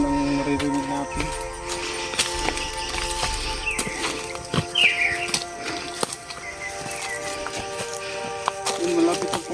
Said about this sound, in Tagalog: Yung huni lang ng ibon ang maririnig natin.